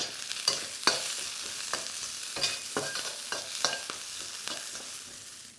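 Sliced ginger and spring onion fry in hot oil in a pan, giving a steady close crackling sizzle broken by repeated sharp clacks and scrapes from stirring, with no voices.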